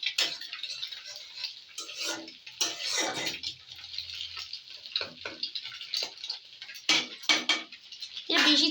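Homemade Maggi masala noodles being stirred in a pan: irregular scraping and clattering of a utensil against metal, in uneven bursts with brief pauses, close and moderately loud.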